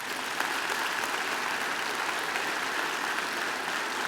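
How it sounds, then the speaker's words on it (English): Sustained applause from a graduation ceremony audience, a dense, even wash of many hands clapping at once, steady and fairly loud throughout with no voices standing out. "They deserve a round of applause too."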